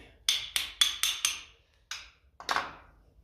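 Metal tapping on the bolts of a 1957 Ferguson FE35 TVO tractor during throttle work: a quick run of five sharp, ringing hammer taps, then two more spaced taps, close and clear with no talking.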